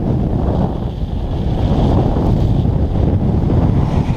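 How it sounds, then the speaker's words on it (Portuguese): Strong north wind roars steadily across the microphone during a bicycle touring trip along the coast between Sombrio and Garopaba, a loud, continuous buffeting rumble with no voices. "Tá uma ventania absurda."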